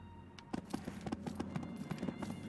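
Horse hooves clip-clop in the video game Disciples Liberation, a quick, even run of hollow knocks repeating throughout at moderate volume, with no talking.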